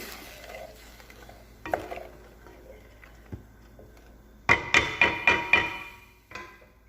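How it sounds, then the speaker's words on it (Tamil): A spoon stirring ground tomato into mutton curry in a cooking pot, a quick run of five sharp metallic scrapes and clinks after quieter occasional taps, with faint sizzling and light talk. "அதை இப்போ இதில் ஊற்றணும் ஊற்றி நல்லா கிளறி விட்டுட்டு"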